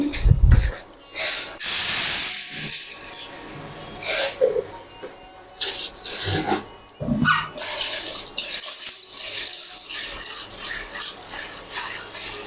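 Tap water runs and splashes while lentils are washed in a kitchen, coming in bursts of gushing hiss broken by stirring and pauses, close and fairly loud.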